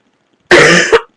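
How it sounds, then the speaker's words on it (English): A single loud, close cough, a harsh burst with a short second catch at the end, then silence. "I'm just trying to prevent coughing all over the"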